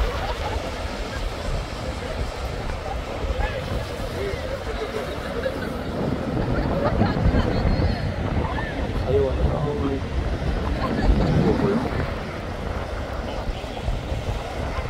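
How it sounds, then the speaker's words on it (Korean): Ocean waves wash onto the black sand beach at Soesokkak in Seogwipo, a continuous low surf rumble with wind buffeting the microphone, swelling midway and staying close and moderately loud, with faint voices in the background. "파도를 즐기고 있습니다."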